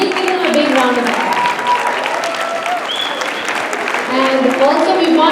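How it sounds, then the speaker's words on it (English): An audience at a Women's Day event applauds, warm sustained clapping of a sizable crowd running throughout, with some voices and cheers mixed in. "Please give them a big round of applause."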